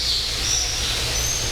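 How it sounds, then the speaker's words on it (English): Birds calling inside a walk-through zoo aviary, thin high chirps and tones over a steady broadband hum of the enclosure, moderately loud with no talking. "I don't know what all birds are in here."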